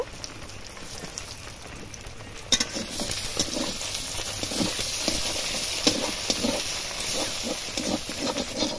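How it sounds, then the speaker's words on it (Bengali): Two country-chicken eggs sizzling in hot oil in a wok, a steady crackling spatter with sharp pops growing busier after the first couple of seconds, close and fairly loud, with no voices. "ডিমটা হালকা ভেজে নিয়েছি"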